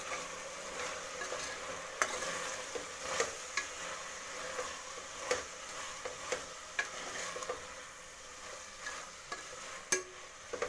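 A spoon scrapes and stirs garam masala and chili powder into a tomato bath in a pan, with soft sizzling throughout and irregular light clicks and taps of the spoon against the pan, no voices.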